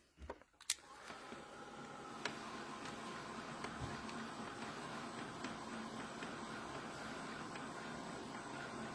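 A heat tool runs steadily while drying Distress paint, a faint, even whirring blow that starts after a couple of soft knocks and holds for several seconds.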